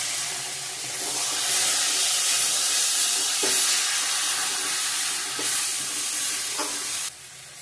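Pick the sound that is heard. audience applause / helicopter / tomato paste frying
tomato paste frying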